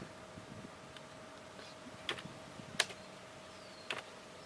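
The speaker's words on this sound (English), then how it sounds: "So we type in values for the gain," Values typed on a computer keyboard while setting sensor gain: a few sparse, sharp key clicks spaced about a second apart over a steady electronic hum, no talking.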